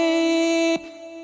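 A reversed vocal riser effect built in Logic Pro X rings as a bright sustained tonal swell that cuts off sharply, leaving a quieter fading tail.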